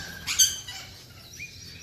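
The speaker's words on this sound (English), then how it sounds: "Down there in the background there's a lorikeet" A lorikeet gives a brief, sharp screech followed by a fainter high chirp, heard alone against quiet surroundings.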